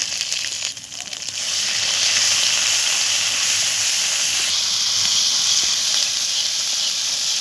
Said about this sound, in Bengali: এই তেলের মধ্যে আমি জিরা, শুকনো মরিচ, রসুন, পেঁয়াজ বাটা দিয়ে দেব